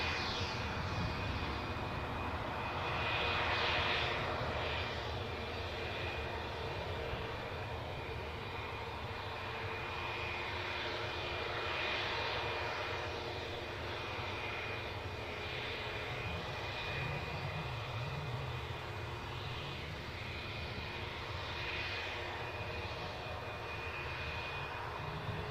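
An airliner taxis out toward the runway at Newcastle airport, its engines holding a steady, fairly distant drone that barely changes for the whole stretch, with no voices.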